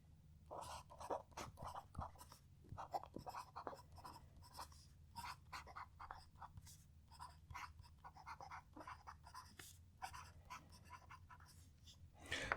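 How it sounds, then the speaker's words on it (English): Soft fountain pen nib scratching across paper in quick, irregular strokes, a close, quiet rhythmic scritching with brief pauses between words. "This nib is very, very soft, and it's like singing as I'm writing."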